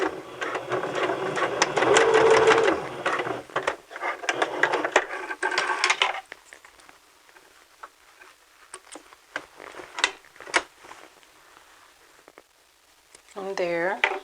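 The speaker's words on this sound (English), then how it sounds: "we're going to back stitch." A sewing machine back stitches a seam, running in a steady close rattling buzz for several seconds before stopping, followed by quieter fabric handling and small clicks.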